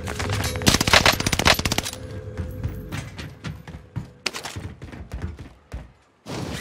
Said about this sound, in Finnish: sieltä mäeltä ammutaan